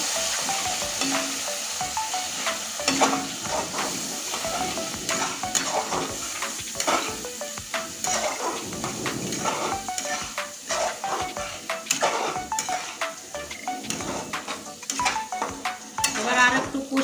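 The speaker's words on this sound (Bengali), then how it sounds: "অল্প পরিমাণ জল দিয়ে দিচ্ছি এবার সুন্দরভাবে নেড়ে নেবো" Spice masala sizzling in a pan with a little added water while being stirred for a chicken and potato curry, a continuous close frying hiss broken by repeated scraping strokes; no talk.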